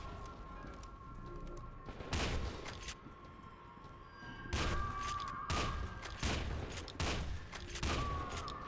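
Grenades blast in the video game Voices in the Void, a rapid cluster of sharp booming explosions and crashes in quick bursts, with a faint steady tone running beneath.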